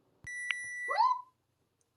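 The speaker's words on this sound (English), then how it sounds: "so our timer has went off" A kitchen timer on a homestead goes off while bread bakes, giving one steady electronic beep about half a second long, fairly quiet and close, followed by a brief chirp and then silence.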